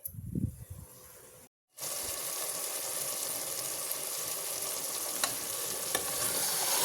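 Chicken frying with fenugreek leaves in a pan for donne biryani, a steady close sizzle and hiss after a short scrape and a brief silent gap, with faint stirring clicks.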